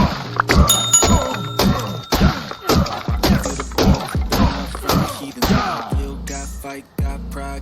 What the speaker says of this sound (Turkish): öncelikle ağaç kırarak başlayalım